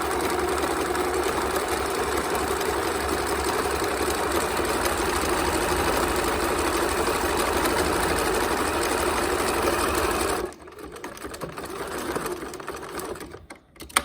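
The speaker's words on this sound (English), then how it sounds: "I'm back stitching so I don't have to bother with cutting my threads" A sewing machine runs steadily for about ten seconds, back stitching along the frayable edge of fabric for menstrual underwear, then stops, leaving a few faint handling sounds.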